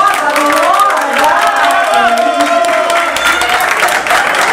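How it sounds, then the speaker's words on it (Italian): Clapping and cheers from a crowd at a Milano Fashion Week runway show, heard under loud, bright music with shifting melodic tones, sustained throughout. "Un applauso, per qualcosa, l'onore!"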